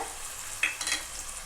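Soft stirring and light frying of chopped onions with curry leaves and green chillies in a pan, with a brief scrape and a gentle sizzle in oil, no voices.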